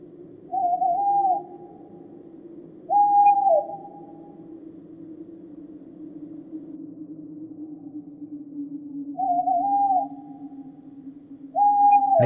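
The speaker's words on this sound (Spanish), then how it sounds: "se escuchó el suave ululato de un búho en el bosque" Soft owl hooting in a forest: four separate hoots, each a short, slightly wavering whistle-like call, spaced apart over a low, steady background drone.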